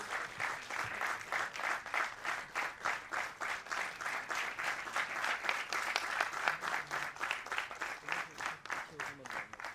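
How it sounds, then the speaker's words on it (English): An audience at a cinematography masterclass applauds as K.K. Senthil Kumar is called on stage, rhythmic group clapping that falls into a steady unified beat, moderately distant and sustained. "let us all put a huge round of applause to Mr. K.K. Senthil Kumar"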